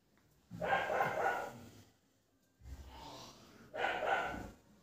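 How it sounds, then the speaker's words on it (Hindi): A dog barks three times in slow, evenly spaced bursts at moderate distance, with short quiet gaps between them. "कुत्ता का आवाज डिस्टर्ब करता है"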